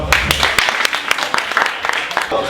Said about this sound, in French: Attention, applaudissez vous-même.